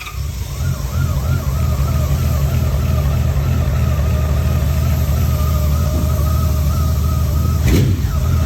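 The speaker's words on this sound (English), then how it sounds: "an example of what a well-tuned Valkyrie should sound like and is capable of" Honda Valkyrie GL1500 motorcycle with rebuilt, well-tuned carburetors idling smoothly, a loud steady low rumble close by with a faint wavering whine above it and a brief sharp click near the end.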